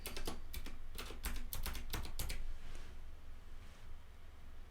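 Rapid keystrokes on a computer keyboard as a title is typed, a quick burst of sharp clicks for about two and a half seconds, then quiet room tone.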